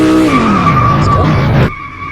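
A car drifts with a long, loud tire skid in the video game Car Driving Ultimate, the squeal holding steady with engine tone beneath before it cuts off abruptly near the end.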